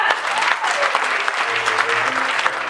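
A church congregation claps loudly and continuously during a worship service, a dense close burst of applause with voices mixed in.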